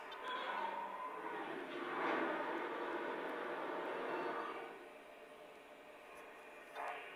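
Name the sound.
model locomotive water fill-up sound effect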